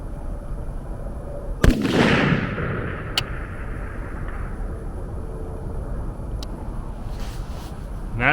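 A rifle fires military ammunition at a steel target outdoors, one loud sharp crack with a rolling echo, followed by a faint distant metallic ping and quiet background noise.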